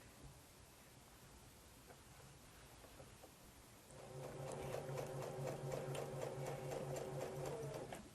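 A sewing machine stitching strips of a log cabin courthouse steps quilt block starts halfway through, a steady close whirring hum with rapid needle ticking after a few seconds of quiet room tone.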